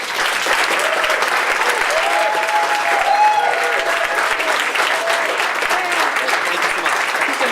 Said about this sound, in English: give a really loud, big, warm round of applause for Joachim